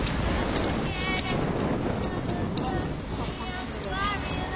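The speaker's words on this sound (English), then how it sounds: "Oh, bees." Bees buzz in a steady, close-up drone that continues throughout, with faint higher whines drifting in and out.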